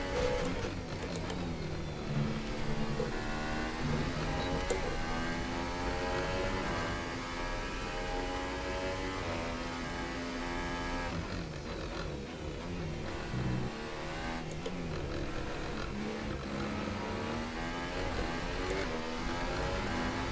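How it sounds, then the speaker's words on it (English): A whining racing-car engine from a video game revs and shifts pitch continuously, fairly quiet and buzzy, with no voices. "the car doesn't sound great"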